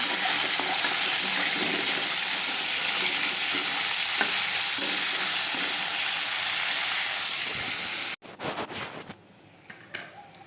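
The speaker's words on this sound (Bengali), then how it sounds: "মাংসটাকে ভাজতে লাগবে, তো ভাজা ভাজা করে মাংসটা।" Meat frying in oil for chicken chow mein, a loud steady sizzle with stirring scrapes for about eight seconds, then the frying abruptly drops away into quieter, broken crackling.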